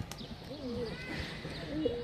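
Pigeons that had escaped and been caught coo softly and intermittently nearby, low rolling calls over a quiet outdoor background with a faint click or two.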